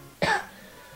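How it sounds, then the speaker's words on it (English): A single short cough, close and fairly soft, followed by quiet room noise. "so sorry I keep coughing"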